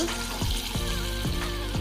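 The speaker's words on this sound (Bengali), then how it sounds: "এবার আমি ভেজে রাখা মাংসের পিসগুলো দিয়ে ভালোভাবে মেখে নেব, নিয়ে ভেজে নেব।" Coated chicken pieces sizzle in hot oil while frying for chicken pakora, a steady close crackle with a few soft stirring bumps and no talking.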